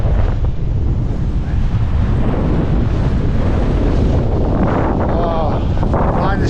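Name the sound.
strong cold wind on a winter mountain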